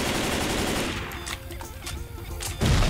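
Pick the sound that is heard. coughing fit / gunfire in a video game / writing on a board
gunfire in a video game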